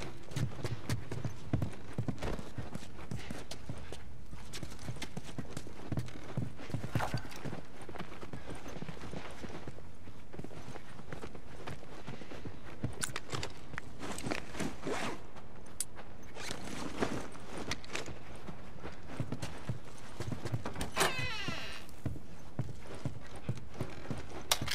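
Horse hooves clip-clop in a steady, rhythmic stream in the video game The Last of Us, with occasional sharper knocks and jingles layered over the continuous hoofbeats.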